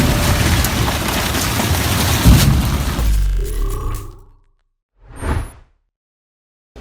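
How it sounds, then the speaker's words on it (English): A loud, dense grinding and crunching roar of metal as an Argus VZ950DK industrial shredder crushes a car, fading out and followed by a brief whooshing burst. "Dangerously awesome shredding starts now."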